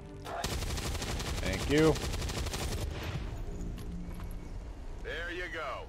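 Rapid automatic gunfire in XCOM 2 as a turret is taken out: a loud burst of shots, then a brief spoken reply and further game noise.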